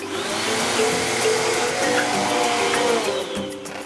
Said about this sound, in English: We can use a vacuum cleaner.